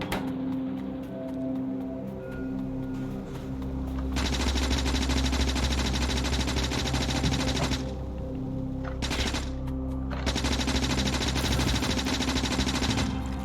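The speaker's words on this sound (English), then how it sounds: "Sorry, I can't currently hear you over the gunfire." Guns in the Factorio video game fire in continuous, rapid machine-gun rattles that stay loud and steady throughout, broken only by brief pauses.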